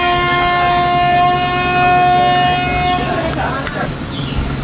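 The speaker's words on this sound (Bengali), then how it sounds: "খালতিপুর স্টেশন থেকে আমাদের ট্রেন ছেড়ে দিল" The 13466 Intercity Express departs Khaltipur station, a sustained multi-tone horn blast over rolling rail noise, the horn cutting off partway and leaving the steady rumble of the moving train.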